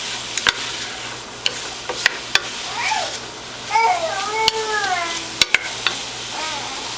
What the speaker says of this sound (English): And we'll just stir that around a bit and